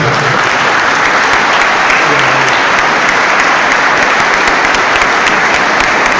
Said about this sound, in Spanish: Recibamos al hermano con un fuerte aplauso.